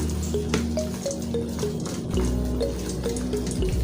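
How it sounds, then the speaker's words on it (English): Water is poured and stirred into a moi moi mixture, giving a steady soft liquid trickle and splashing with light scraping, close and fairly quiet, with no talking. "So I'll also add some water."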